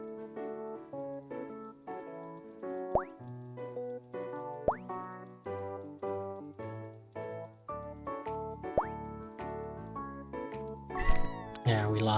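Cartoon cat meows in the video game Unbox The Cats ring out over bouncy game music. Several meows come at intervals, ending in a busier burst.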